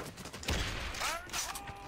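Shotgun gunfire in the video game Metro Conflict, heard as a couple of sharp, booming blasts with metallic ringing tails in quick succession, loud and close, amid busy game noise.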